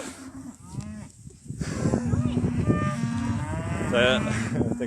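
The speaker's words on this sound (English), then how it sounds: "The cattle have obviously all followed us here." Cattle mooing on a farm, several drawn-out lowing calls from nearby animals overlapping one another, fairly loud and steady throughout, with a faint voice now and then.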